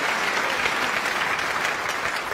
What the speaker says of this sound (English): And again, applauded by his opponent.